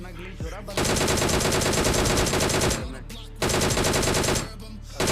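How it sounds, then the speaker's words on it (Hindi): Gunfire in the BGMI (PUBG) battle-royale game crackles in loud, long rapid bursts, with brief pauses between volleys. "अब मेरे टीममेट ने शॉटगन से नॉक कर दिया।"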